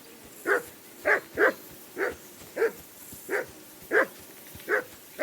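Dog barking in the medieval RPG Kingdom Come: Deliverance, about ten sharp barks at a steady, slightly uneven rhythm over a low ambient bed, fairly close and clear with no talk.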